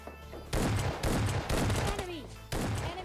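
Shotgun blasts in PUBG Mobile Lite from an S12K, four loud close bursts spaced about half a second to a second apart, with game sounds between them.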